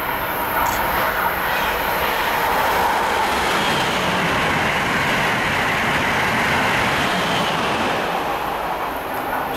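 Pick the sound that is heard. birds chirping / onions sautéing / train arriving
train arriving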